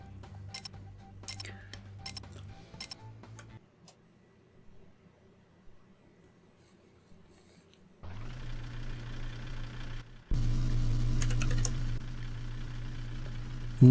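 A 240 diesel car launches down a quarter-mile strip in Car Mechanic 2021. A quiet low idle gives way to a sudden loud, steady engine roar that jumps again as the throttle opens, then holds a dense drone to the end.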